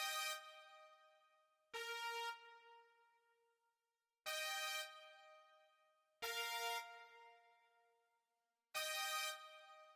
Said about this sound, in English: I purposely use this trumpet ensemble in order to really lead into my hook